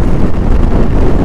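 Strong wind buffets the microphone on a mountain road between Ooty and Madurai, with rain falling, a steady loud low rumble and rushing noise throughout with no clear breaks.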